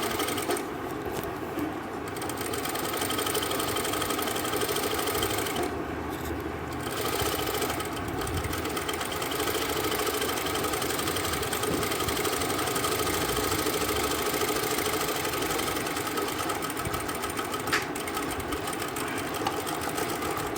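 A sewing machine runs steadily while stitching suit fabric, a loud continuous motorized whir with a fast mechanical needle rhythm and only brief changes in pace.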